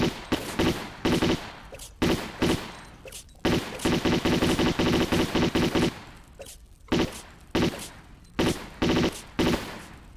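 Rapid bursts of Uzi gunfire in a Tomb Raider 4 custom level, loud and close, fired in repeated volleys with short gaps between them.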